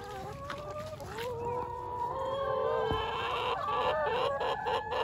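Chickens in a backyard hen house cluck and squawk over one another, several birds at close range, with a sharp crow-like call partway through and steady farmyard murmur beneath.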